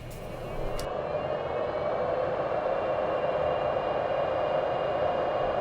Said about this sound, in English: As promised, here's the sound of the 2 fans going at once.